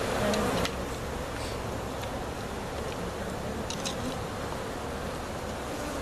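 Honey bees buzz densely around a packed beehive in a club yard, a constant close hum that stays level throughout, with a brief louder burst at the start.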